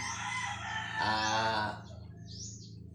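A rooster crows once, loud and drawn out, with a few clucks from nearby fowl around it.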